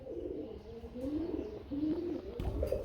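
Pigeons at a pigeon farm coo continuously and up close, a steady, soft, throaty warble with rising and falling calls and no talking.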